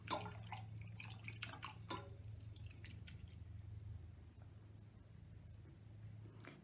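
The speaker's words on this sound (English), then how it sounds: "Now I'm going to rinse my brush." An acrylic paint brush is swished and tapped in a water container, making faint, quick drips and little splashes over a low steady room hum, close and quiet, with no talk.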